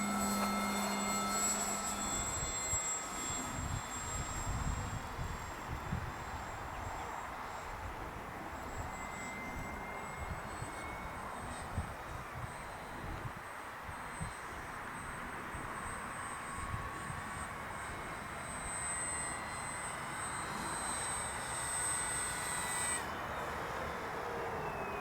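An RC model airplane whines overhead as it comes in to land, a high thin motor tone that drifts in pitch over steady outdoor wind rumble.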